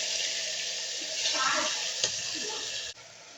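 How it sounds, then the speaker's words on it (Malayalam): Mustard seeds spluttering in hot oil in a pan for a potato curry, a continuous bright hiss with a small pop near the end before it cuts off abruptly, close and fairly soft. "കടുകിട്ട് കൊടുത്തിട്ടുണ്ട് കടുക് പൊട്ടി കഴിയുമ്പോഴത്തേക്കും"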